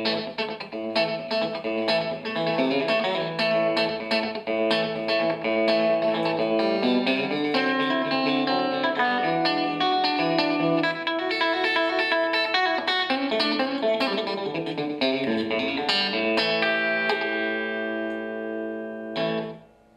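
Slap bass played through an Amplisonic V8 FOUR 30W amplifier, a steady run of punchy percussive notes with bright attack and light effects coloring, loud and continuous before fading out at the end.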